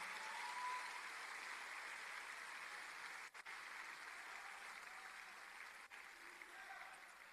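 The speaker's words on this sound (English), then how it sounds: "let's give a roaring round of applause to Enugu." An audience at a Nigerian technology conference in Enugu applauds with continuous, even clapping. The applause is fairly quiet, dips briefly twice, and plays alone without talk.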